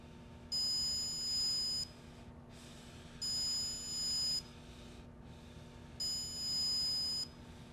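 Three long electronic beeps from a Greenlee SF-420AC stud finder, evenly spaced, each held for over a second with short gaps between, over a steady low hum.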